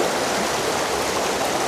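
River water rushing through a protected built channel near the sea, a loud, dense, steady roar close by with no talking.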